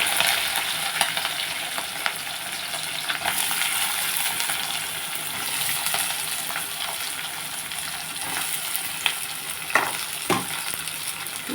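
Onions frying in a pan for raw banana kurma curry, a continuous close sizzle with occasional stirring scrapes and a couple of sharper clatters near the end, no talk.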